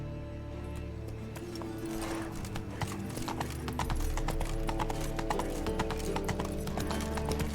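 Hooves of Roach, the horse in The Witcher 3 video game, clip-clop at a steady, quickening pace, close and clear, with no talk over them.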